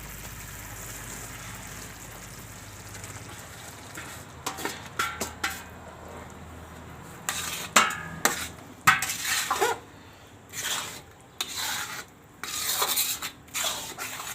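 Mawa being stirred in a pan while making peda, with scattered scraping and clinking strokes of a utensil against the pan that build into thicker bursts of rubbing in the second half, close by and without talk.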